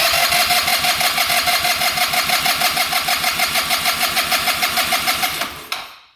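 An old free scooter engine, sold as unfixable, cranks over with the throttle held wide open: a fast, steady, loud rhythmic chugging of compression strokes running for several seconds, then abruptly cutting off.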